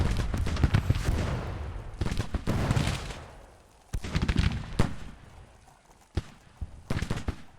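Musket volleys from a Civil War battle line crash out in several loud, ragged bursts, each decaying into a rumbling tail, with scattered single shots between them.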